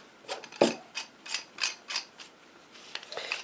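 Small plumbing parts being screwed together by hand on a DIY lightsaber hilt, a quick series of light metallic clicks and scraping ratchety turns, close and quiet.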